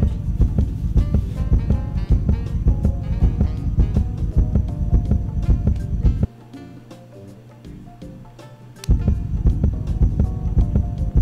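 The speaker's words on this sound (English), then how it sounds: "Can you hear a heartbeat?" A heartbeat heard through a stethoscope in the video game Trauma Team, a loud, steady throbbing pulse with a low hum, cutting out briefly partway before resuming.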